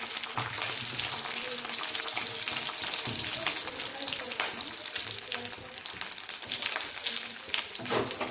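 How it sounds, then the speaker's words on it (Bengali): Garlic and dried red chillies frying in hot oil in a pan, a steady close sizzle with occasional stirring clinks, no talking. "লাল লাল করে ভাজা হয়েছে, তুলে নিচ্ছি"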